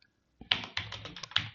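Someone types on a computer keyboard at close range. The quiet, irregular keystroke clicks run at an uneven pace, with no talking.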